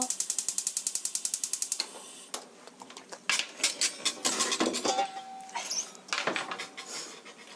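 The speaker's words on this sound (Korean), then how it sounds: "가스불로 가셔서 불을 켜시고요" A gas stove burner being switched on while braising pork and vegetables: a rapid series of ticking igniter clicks, then clattering and knocks of the knob and cookware, close and fairly loud.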